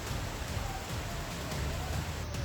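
Heavy rain pours down during flooding in Junagadh, India, a dense, continuous hiss of downpour on surfaces, steady and loud throughout with no clear voices.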